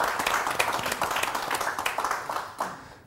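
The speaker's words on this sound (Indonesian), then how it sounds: "kita beri tepuk tangan dulu Pak Ci dan Pak Antonius" Audience clapping at a discussion event, a close, moderately loud round of applause with individual claps audible, rhythmic and fairly sparse, tapering off near the end.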